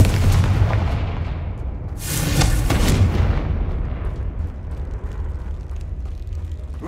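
A booming fire-spell blast from the video game Hogwarts Legacy bursts loudly about two seconds in, with a rumbling low roar that lingers beneath continuous game ambience.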